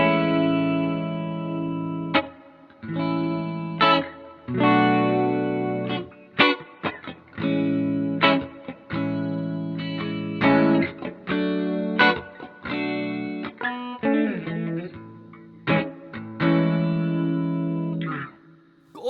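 Electric guitar through a Bias FX 2 blues preset with chorus and reverb, playing clean, warm chords and picked phrases in bursts with short pauses, ringing tails washing between notes, no talking.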